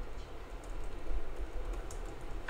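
Typing on a computer keyboard while coding an iOS app, a steady run of soft, quick keystrokes at close range, with a slightly louder clack near the end and no speech.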